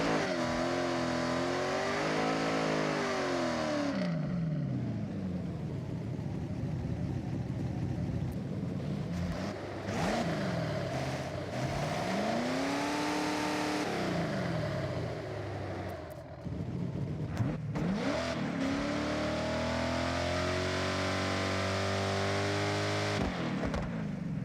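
A car engine revs and accelerates through repeated rising and falling sweeps in the Forza Horizon racing game, loud and continuous with brief shifts between gears and no talking.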